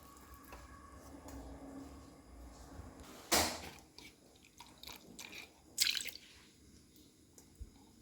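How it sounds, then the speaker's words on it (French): Water splashes and drips as a plastic container is rinsed, with two short sharp splashing bursts standing out over a quiet kitchen background. "Donc j'ai rincé ma boîte."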